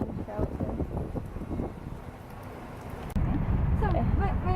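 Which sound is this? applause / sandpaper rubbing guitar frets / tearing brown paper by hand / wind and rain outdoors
wind and rain outdoors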